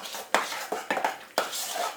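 A big spoon stirs pumpkin pie filling in a bowl, scraping with a few sharp clinks against the sides over a couple of seconds.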